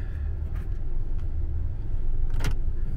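Low road rumble and engine hum fill the inside of a moving car, steady throughout, with a few faint clicks and one brief sharp rattle near the end.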